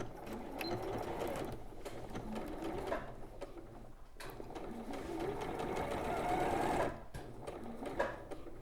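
A sewing machine stitches quilt appliqué with a steady whirring motor hum and rapid needle clatter, close and moderately quiet, pausing briefly near the pivot point before running on again.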